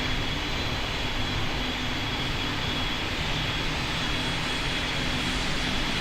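An airliner takes off in the Pilot Training Flight Simulator game, its jet engine roaring as a steady, loud broadband rush that holds for the whole stretch without any talk over it.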